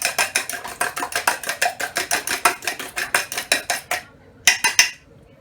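Metal utensil scraping and clinking rhythmically against a pot while salt and pepper are stirred into fried rice ingredients, about twenty steady close strokes, then a brief pause and two final scrapes.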